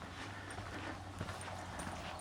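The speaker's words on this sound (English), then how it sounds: "The horses are going in the same direction as us, so I'm just gonna trail behind them." Horses walk along an outdoor hiking trail ahead, their hooves giving faint, scattered clip-clops at a distance beneath wind and steady ambient noise, with no talking.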